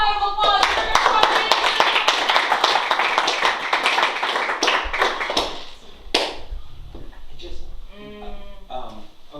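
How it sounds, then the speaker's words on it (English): A theater audience at an improv comedy show gives a warm round of clapping, loud and dense for about six seconds before trailing off as performers start speaking. "After a warm round of applause, we're going to start"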